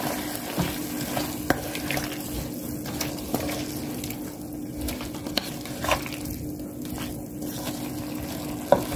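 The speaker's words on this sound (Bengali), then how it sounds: "জালিটা দিয়ে নেড়ে চেড়ে দিচ্ছি।" A pot stirred with a slotted spoon over a low simmer, faint bubbling and soft wet sizzle punctuated by scattered clicks and scrapes of the spoon against the pot, close and quiet.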